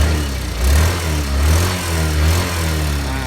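A 2016 Yamaha Grand Filano scooter engine idles steadily close by, its low throb swelling briefly a couple of times as if lightly revved.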